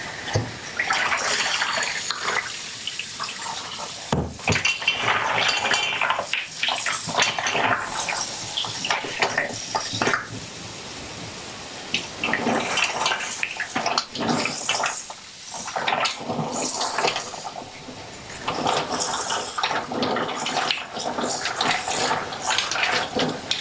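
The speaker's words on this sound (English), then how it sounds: "I'm just going to rinse these mussels, so bear with the sound a little bit" Mussels rinsed under a running kitchen tap, with water splashing steadily and shells clattering and knocking against each other in a bowl or sink for more than twenty seconds, close by.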